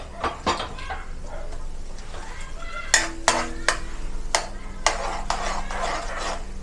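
Garlic, a whole head of it, sizzling in a frying pan for buttered shrimp and mussels, with a spoon scraping and clacking against the pan in irregular strokes over a steady hiss.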